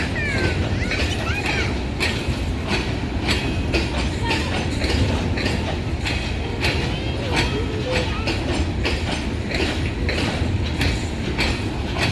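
A passenger train runs on rails between Sadiqabad and Bahawalpur, heard from inside with a loud, steady rumble and a regular clickety-clack of wheels over rail joints throughout.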